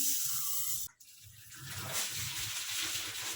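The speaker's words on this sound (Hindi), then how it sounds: "मैं सबसे पहले 1 कप साबूदाने को अच्छे से धो दे रही हूँ।" One cup of sago pearls is washed in water, giving a soft, steady sloshing and trickling wash with a brief dip partway through, fairly quiet and close.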